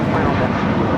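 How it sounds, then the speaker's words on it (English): A JetBlue Airbus A321 departing LAX gives a brief, dense, steady rumble of engine noise at close range, loud and constant throughout. "This is JetBlue, Flight 100, departing to Fort Lauderdale on an A321."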